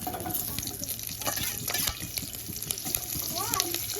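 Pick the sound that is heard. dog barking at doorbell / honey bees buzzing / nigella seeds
nigella seeds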